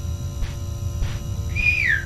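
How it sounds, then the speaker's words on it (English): A whistled tone rising and then gliding downward near the end, played over a steady low game hum inside the Inside the Backrooms video game, with faint brief noises before it. "I'm whistling at him."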